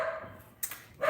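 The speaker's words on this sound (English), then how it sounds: "I'm sorry, I'm trying to talk over my dog." A pet dog barks indoors, a couple of short sharp yaps close by, separated by quiet gaps, with a brief fainter whine between them and no talking.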